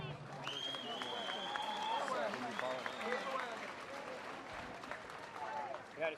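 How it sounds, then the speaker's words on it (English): Audience applause for the speakers at an outdoor gathering during the Pope's visit to Maskwacis, Alberta: a fairly faint, distant spread of clapping with crowd murmur and voices underneath. "How about a round of applause for all our speakers"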